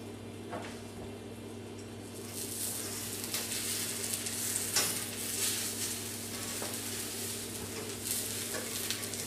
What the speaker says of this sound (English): now we just kind of wait for the egg to cook completely through so that we can fold it over